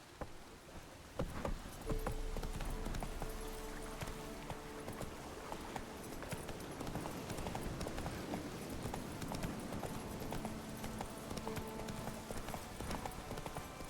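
Horse hooves gallop in The Witcher 3 in a fast, continuous clip-clop rhythm at moderate level, with game ambience underneath and no talk.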